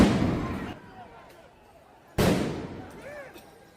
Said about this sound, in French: C'est quoi, ces grenades de désencerclement?